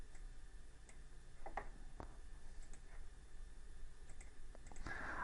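Sparse, faint mouse clicks in a quiet room, a handful of isolated sharp ticks spread out with pauses between, over a steady low background hiss.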